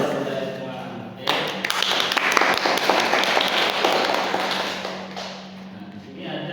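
A class performs the 'tepuk jempol' clapping routine. Quick, dense rhythmic claps and taps start suddenly and continue for several seconds before fading out, with voices audible around them.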